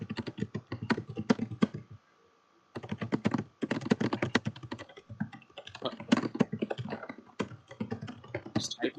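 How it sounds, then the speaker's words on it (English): Rapid computer keyboard typing during an online card-game championship qualifier, a dense run of quick clicks with a short pause near two seconds, fairly close and steady throughout. "Just typing monstrously fast."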